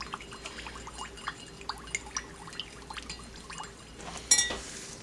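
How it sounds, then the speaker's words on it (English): Homemade healing skin salve being stirred in a container, faint scattered liquid clinks and small sloshes, quiet and irregular, ending with a brighter metallic tap. "Now I'm going to stir that around like so."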